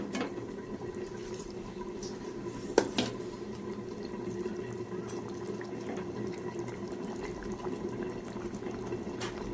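A pan of chorchori vegetable curry simmers with released water, giving a soft continuous bubbling hiss with one brief clink near the start.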